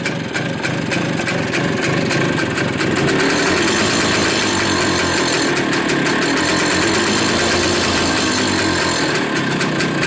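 A mid-1960s White 125 two-stroke motorcycle engine, an original unrestored find running on a rich fuel mix, idles steadily and loudly up close, its raspy, buzzy putter continuous for the whole stretch.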